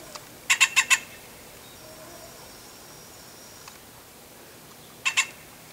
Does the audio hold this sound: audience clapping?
no